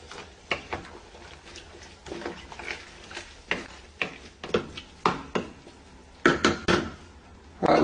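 Mushrooms are stirred into chicken in a pot, with a spoon scraping and knocking against the pot in irregular clacks and taps, close and fairly quiet, over several seconds.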